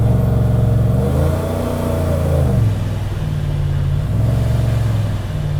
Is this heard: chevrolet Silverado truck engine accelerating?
yes